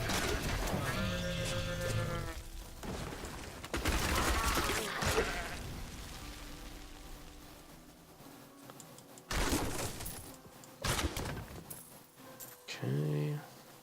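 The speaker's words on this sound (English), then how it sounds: "And there we got some goat men." Khazra goat men in the video game Diablo 3, bleating goat-like cries repeating in bursts amid game effects and music, with a voice talking over parts of it.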